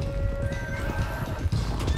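A stallion whinnies and neighs loudly in Red Dead Redemption 2, with a long wavering cry over a steady patter of hooves. The horse sounds near, and no voices are heard.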